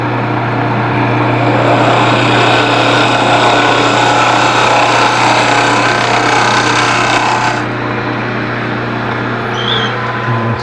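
A round nose scraper cuts the interior of a wood piece spinning on a lathe, a steady loud broadband shaving hiss over the motor hum that drops abruptly near the end as the cut stops, leaving the lathe running.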